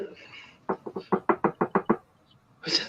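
Eight firm knocks on a door in a quick, even run, with faint voices just before and after.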